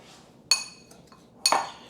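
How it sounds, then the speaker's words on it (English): A spoon clinks twice against a bowl while breaking up brown sugar mixed with cinnamon, two sharp, close metallic taps about a second apart over quiet background. "I'm trying to break up the brown sugar as much as possible"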